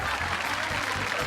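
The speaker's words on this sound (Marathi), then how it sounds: "जोरदार टाळ्या वाजवा" A television show audience breaks into dense, loud applause that fills the whole short stretch evenly and continuously.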